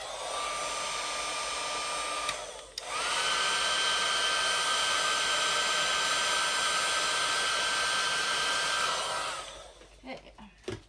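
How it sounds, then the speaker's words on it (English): A heat gun blows on freshly poured blue, white and silver resin coasters: a steady loud whirring hiss with a high whine, cut off briefly and restarted, then running continuously before shutting off and leaving a few small clicks. "I'm gonna give them a quick zap with the heat gun too."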